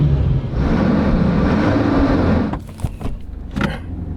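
A 4WD vehicle on Goolwa Beach driving in two-wheel drive, engine rumbling steadily for a couple of seconds before easing off into irregular revving bursts and mechanical clunks.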